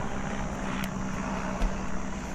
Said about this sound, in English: still helicopter